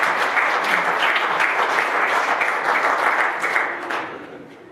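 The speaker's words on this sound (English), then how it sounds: "Give him a round of applause." Full audience applause in a church gathering, a dense steady wash of many hands clapping loudly for several seconds before fading out at the end.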